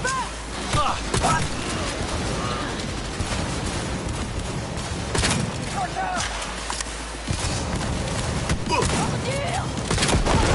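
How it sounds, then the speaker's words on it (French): Gunfire during a firefight in the video game Cyberpunk 2077, sharp loud cracks and booms repeating irregularly over dense battle noise, with voices talking throughout. "On a un sniper."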